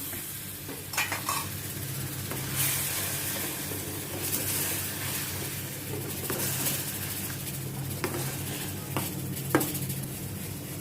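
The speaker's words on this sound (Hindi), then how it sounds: "इन सभी को अच्छी तरह से थोड़ा मैं सौते करती हूँ ताकि मसालों का भी कच्चापन निकल जाए" Spices and grated tomato stirred and sautéed in a pan for a spice gravy for black chickpeas, a steady low sizzle with repeated scraping stirs and occasional utensil knocks against the pan.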